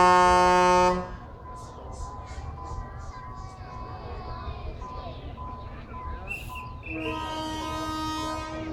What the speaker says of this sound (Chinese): 列车离开月台，请您留意自己的安全